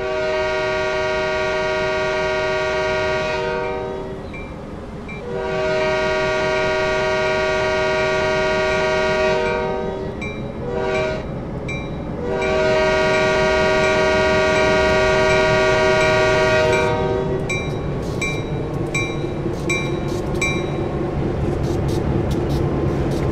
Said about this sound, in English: Doing a crossing pattern there on the horn